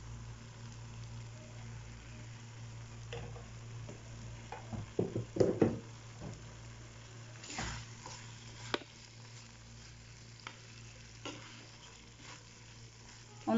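Spices with Kashmiri chilli powder fry in raw coconut oil while drumstick masala is cooked. Stirring and quiet sizzling come through with a few close scrapes and taps, and a steady low hum runs underneath.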